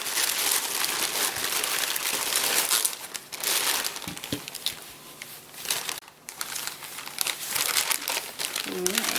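Plastic packaging crinkles and crumples continuously as a chrome 4-to-1 exhaust header is unwrapped up close, with a brief soft clunk partway through.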